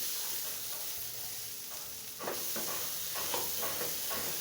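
Raw papaya and shrimp bhaji fries in oil with a constant soft sizzle, joined midway by a few scraping stirs of a spatula, close and fairly quiet.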